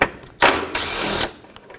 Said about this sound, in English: Now we're going to move on top of the headlight and remove this 10mm bolt.